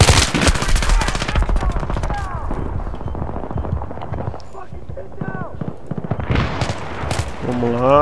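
Gunfire in the Battlefield 3 video game, dense rapid bursts of automatic weapon fire up front, then scattered shots later, with a player talking over much of it.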